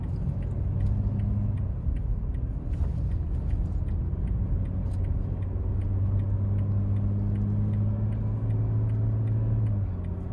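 A 2021 Toyota Tacoma TRD Off Road cruises on the freeway, heard from inside the cab: a constant low engine and road rumble with a faint regular ticking over it.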